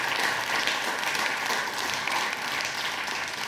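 Studio audience applause on a Serbian evening talk show, steady continuous clapping from a full crowd in the stands, even and sustained for several seconds with no voices on top.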